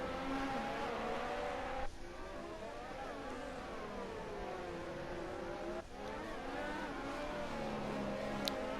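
Formula 1 cars in the F1 2018 video game scream past with high, sweeping engine notes that rise and fall as they brake and accelerate, continuous and loud throughout.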